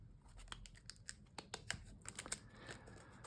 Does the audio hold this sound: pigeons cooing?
no